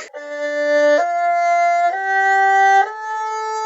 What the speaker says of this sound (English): let me grab my erhu and demonstrate that right now.